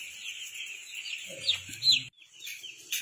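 Chickens on a poultry farm with a nipple drinker system cluck in short, close bursts over a steady high chirping of chicks, ending in a brief quiet gap.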